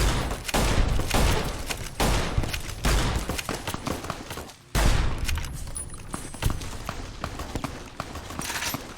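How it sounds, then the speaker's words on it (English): Machine gun fire in the video game Fallout: New Vegas, with dense bursts of rapid gunshots in quick succession, loud and close, a brief pause midway before another heavy volley, no speech. "Damn, they got a machine gun ready."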